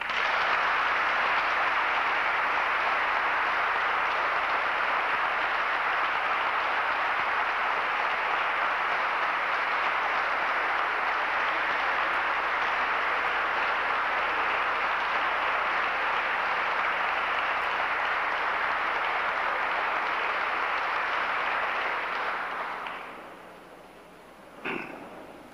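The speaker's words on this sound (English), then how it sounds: "I'd like everyone to come together with a round of applause" Lecture-hall audience welcoming a guest lecturer with sustained applause, a broad steady wash of clapping lasting over twenty seconds before fading out near the end.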